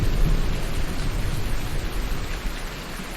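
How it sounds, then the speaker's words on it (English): Steady, even rain hiss inside the Farming Simulator 19 game, a dense broadband wash holding at a constant level for the whole stretch with no voices over it. "it's actually raining in the game"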